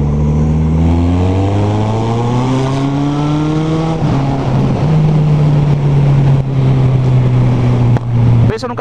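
A Cadillac Escalade drives past in traffic, its loud engine drone sliding steadily down in pitch as it goes by close, with voices in the background.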